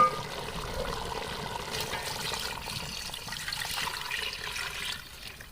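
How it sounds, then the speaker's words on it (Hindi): Water pouring steadily into a pot of browned beef for nihari, a continuous splashing trickle that fades out at the end. "अब मैं इसके अंदर खुला पानी डाल दूँगी।"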